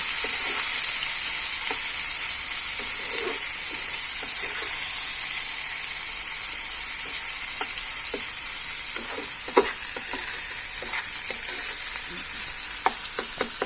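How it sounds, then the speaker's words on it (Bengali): Fridge rice with chopped long beans frying on high heat: a loud, constant sizzle and hiss, with scattered crackles and occasional sharp scrapes of a spatula against the pan. "এখন আমি এটাকে 2 মিনিটের মতো হাই হিটে"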